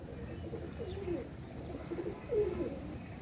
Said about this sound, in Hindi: ये है कबूतर